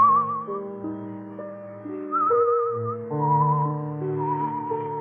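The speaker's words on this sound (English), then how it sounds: "You whistle yourself like that very often?" A person whistles a melodic tune, clear and close, with a steady wavering line over soft orchestral-sounding accompaniment, in an old radio mystery drama.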